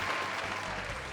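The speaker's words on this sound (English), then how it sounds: "And the crowd roars." A crowd roaring and applauding, a brief burst of dense, loud clapping and cheering that holds steady from start to finish.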